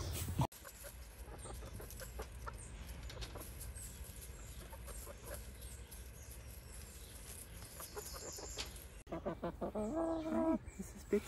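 A hen clucks through low background noise, and a louder burst of clucking comes near the end.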